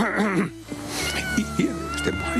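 A domestic cat meows repeatedly in a drawn-out, wavering caterwaul, close and fairly loud, with a low hum and a person speaking Italian underneath.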